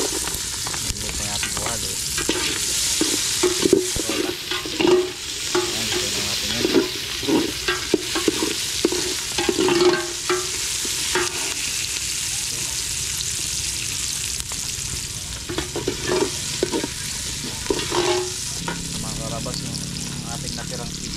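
Garlic and onion sauté in a pan with a constant sizzle while a utensil scrapes and stirs in irregular strokes; a person talks briefly over the cooking.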